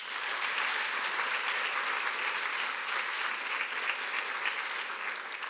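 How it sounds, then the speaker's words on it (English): An audience claps continuously at a livestreamed event, a dense, even wash of hand claps lasting several seconds with no voices on top. "So can you give another round of applause?"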